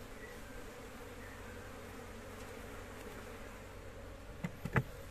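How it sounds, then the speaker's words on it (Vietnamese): A swarm of native honeybees in a four-frame hive hums with a low, steady, faint buzz, joined by a few short louder knocks near the end. "đây là một đàn ong lội đàn ong lội đàn này bốn cầu"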